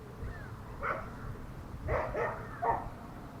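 Dutch Shepherd dogs barking a few times at a distance, quiet short barks and yips spaced out over faint outdoor background noise.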